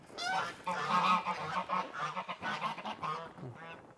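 Several geese honk over and over inside a snow-covered coop, a close, busy chorus of nasal calls that runs on for several seconds with no one talking.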